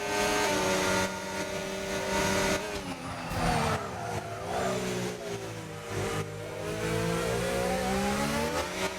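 F1 25 race cars overtake one another at the Austria circuit in a league race, with loud, close engines howling and rising and falling in pitch as they rev and shift through nine seconds of continuous roar.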